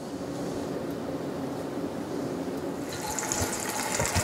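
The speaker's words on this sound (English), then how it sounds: "we're going to drop those into our deep fryer" Cornstarch-coated chicken bites go into a deep fryer with a steady, rushing bubble of hot oil, growing brighter and more crackly toward the end.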